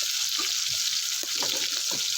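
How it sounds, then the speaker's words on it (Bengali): Chopped tomatoes fry in hot oil for a fish curry, giving a steady, close sizzling hiss with a few soft stirring clinks. No one speaks. "টমেটো তেলের মধ্যে একটু নরম করে ভেজে নেব"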